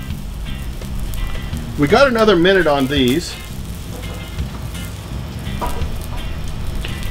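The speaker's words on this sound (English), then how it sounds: "You can sure hear them popping and crackling inside." Chorizo sizzles steadily with popping and crackling as it cooks for a late-night snack, a constant frying hiss heard throughout while someone talks briefly over it.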